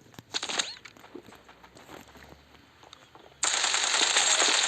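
Gunfire in the mobile shooter game Standoff 2, a few scattered shots and footsteps, then a sustained loud burst of automatic fire over the last second and a half.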